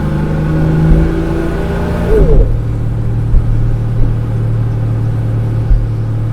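A 1965 Wolseley 24/80 six-cylinder engine drones, then abruptly shifts pitch as the automatic transmission kicks down, settling into a steady lower rumble with occasional bumps.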